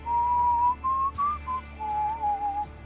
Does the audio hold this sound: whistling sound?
yes